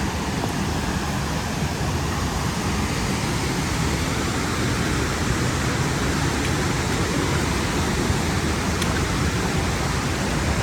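Steady roar of the Bark Camp Creek Cascades, a waterfall on a creek in Daniel Boone National Forest near Corbin, Kentucky, heard up close from a big rock; a dense, unbroken rushing wash holds constant volume throughout, with no voices.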